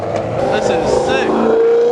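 A muscle car with a swapped engine rumbles past at a car meet, a loud, close, throaty drone that swells and then fades, with people talking over it.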